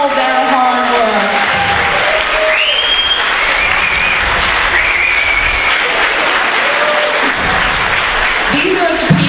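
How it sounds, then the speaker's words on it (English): A large audience at a launch party gives a loud, sustained round of applause for volunteers, dense clapping filling the whole stretch with some voices and cheers audible over it. "if everyone could give them a huge round of applause for all their hard work"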